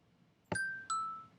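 Two Minecraft note blocks chained through redstone repeaters ring out a doorbell-like chime: a bright higher tone followed a moment later by a lower one, each clean and quickly decaying, alone in near silence.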